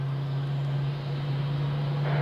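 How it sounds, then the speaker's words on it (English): A Boeing 777 being pushed back from its gate at Zurich Airport, heard as a steady low engine drone with a constant deep hum under broadband rumble, distant and unbroken, no voices. "let's quickly have a look at this 777 being pushed back from Dock E"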